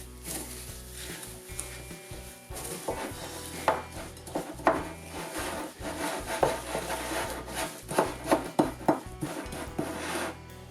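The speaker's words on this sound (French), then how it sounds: "ensuite, à l'aide d'une spatule, je mélange l'ensemble" A spatula stirs melted chocolate, praline and crispy wafer flakes in a bowl, giving close, soft rubbing and scraping strokes with irregular taps against the bowl, no voices.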